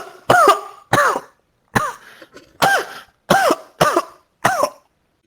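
A man coughs harshly seven times in a steady rhythm, each cough short and raspy with a brief gap after it, close and alone with no talk. A performer is likely voicing the coughing of an injured character in a tabletop role-playing game.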